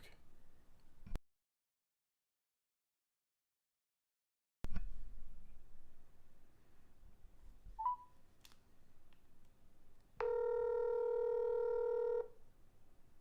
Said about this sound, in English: Should I just call Gabe?